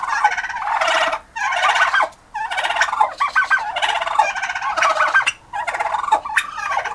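Turkey hens gobble loudly and repeatedly at a newly arrived male turkey, close-up bursts of rapid, rattling calls with brief pauses between them and no talking over them.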